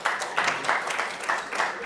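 An audience at a forum on commutation and parole in Massachusetts claps in a dense, steady wash of applause with pulsing bursts, filling the room at moderate loudness.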